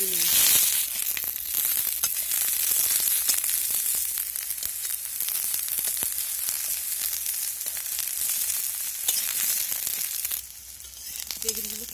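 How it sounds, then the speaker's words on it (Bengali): Eggplant pieces fry in hot oil with a steady, dense sizzle that runs throughout, briefly quieter near the end, with a faint voice at the start and close. "এখন এই তেলের মধ্যে বেগুনগুলো ভেজে নেব"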